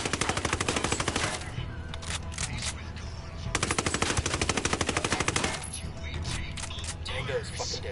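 Rapid automatic gunfire in a cartel shootout game, loud sustained bursts of shots with brief gaps, overlaid by voices talking.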